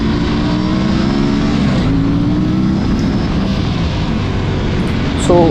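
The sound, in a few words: motorcycle engine during a wheelie attempt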